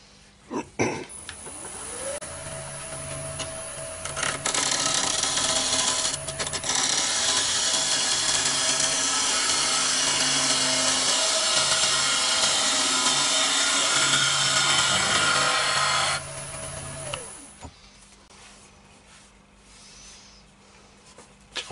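Wood lathe turning a wooden bowl down in diameter before sanding; a steady, loud whirring hum with a constant motor tone holds for about fifteen seconds, then winds down to quiet.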